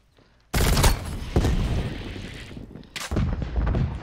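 Gunfire in Call of Duty Cold War, a sudden loud burst of shots that sustains, dips briefly, then erupts again in another heavy volley.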